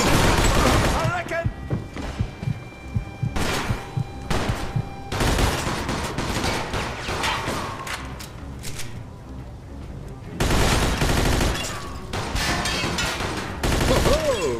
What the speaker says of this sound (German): Hoho, guter Schuss, Vito.